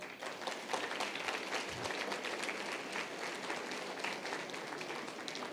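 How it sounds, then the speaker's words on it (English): An audience at a school career fair gives a round of applause, a continuous patter of many hands clapping at moderate distance, fairly quiet and even throughout. "can we have a quick round of applause for them?"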